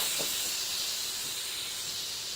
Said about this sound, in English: I have my Instant Pot is all done cooking my chicken, so I'm just going to let that steam release